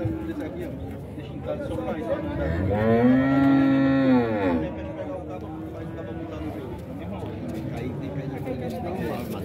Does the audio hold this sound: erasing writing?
no